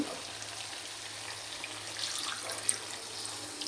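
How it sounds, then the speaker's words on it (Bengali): Water poured into a pot of chicken and potato curry to make the gravy, a soft steady trickle and splash, fairly faint and continuous with one brief louder plink. "এই যে ঝোলের পানি দিয়ে দিলাম"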